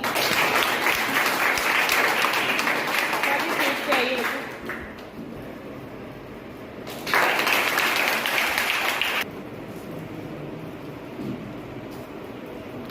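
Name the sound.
audience applause at school seminar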